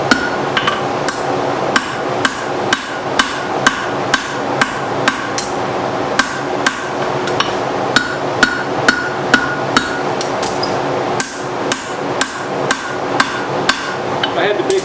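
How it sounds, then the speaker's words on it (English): A 6-pound forging hammer strikes hot metal shaped into double hooks, dozens of sharp ringing blows in a fast, fairly steady rhythm with brief pauses, close and loud with no speech. "I had the big 6-pound hammer."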